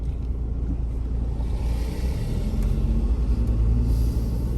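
A 2022 Ford Bronco driving on an open road, a steady low engine and road rumble with wind buffeting the microphone, continuous and fairly loud, without speech.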